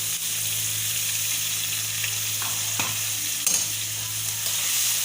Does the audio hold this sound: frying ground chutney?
yes